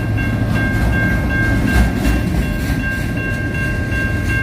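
CN locomotive 3807 passes at night with a loud, continuous rumble and steady rolling rail noise. A faint high tone hums throughout, with no talking.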